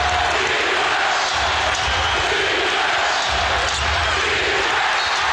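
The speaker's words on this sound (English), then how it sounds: "Listen to this crowd." Loud basketball arena crowd during an NBA game between the Indiana Pacers and Washington Wizards, a dense continuous roar with ball bounces and a commentator talking over it.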